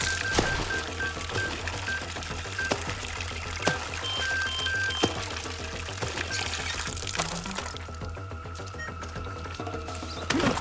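Water pouring and splashing as an object is dunked to cool it in Far Cry 6, a steady watery trickle running over busy game background noise with occasional sharp clicks.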